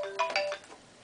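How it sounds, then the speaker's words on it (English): A phone ringtone sounds once during a card-making session, a short bright electronic melody of a few tones that fades out quickly, with no talking. "Sorry about the phone."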